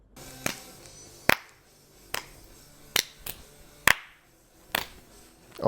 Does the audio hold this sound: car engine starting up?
no